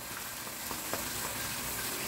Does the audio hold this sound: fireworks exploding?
no